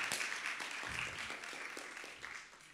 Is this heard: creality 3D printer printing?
no